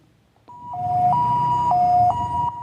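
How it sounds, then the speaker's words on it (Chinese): An ambulance siren at a night traffic crash in Tainan, where a police car collided with a white sedan, wails in a steady two-tone alternating pattern, loud and close, over low rumbling traffic and engine noise. "救护车赶到现场"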